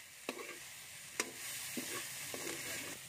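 Rice planthoppers (kammagay) fry in a pan until golden brown, giving a soft, continuous sizzle broken by a few sharp scraping stirs, quiet and close.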